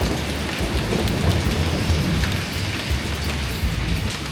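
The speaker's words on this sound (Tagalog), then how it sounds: "Narinig yung mga kamag-anak, mayroon pang kulog." Steady rain pours in Bali with low thunder rumbling beneath the continuous hiss of falling water.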